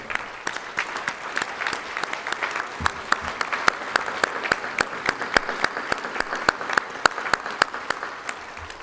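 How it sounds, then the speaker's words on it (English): Convention audience at a softball Hall of Fame induction applauding the national office staff, a long, dense round of clapping with sharp individual claps standing out, loud and steady throughout. "I'd like to give them a round of applause for this great week of the convention"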